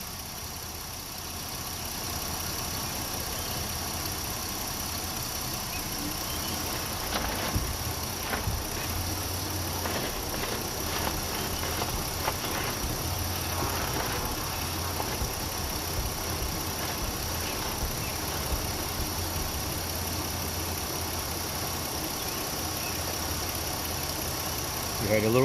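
A Chevy Impala with a 2008 3.5 engine idles steadily while the steering wheel is turned, a low continuous engine hum with faint faint whine and small squeaks, close and fairly quiet.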